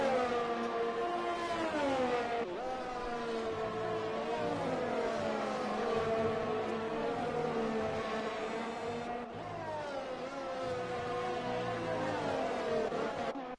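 A Ferrari race car in a Formula 1 style racing game at Russia: a loud, steady high-pitched engine whine rising and falling through gear changes, sustained throughout.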